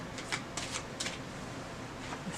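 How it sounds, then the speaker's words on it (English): Tarot cards are shuffled close up in a steady, soft riffling patter with small crisp snaps, faint and continuous throughout. "I'm just gonna shuffle just a little bit longer,"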